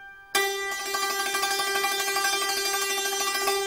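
Rapid tremolo on a Persian santur: one hammered pitch repeated in a fast, even flutter of strikes, sustained and ringing loudly for several seconds.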